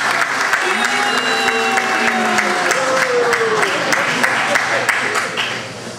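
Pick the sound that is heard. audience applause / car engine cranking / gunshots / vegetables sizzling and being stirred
audience applause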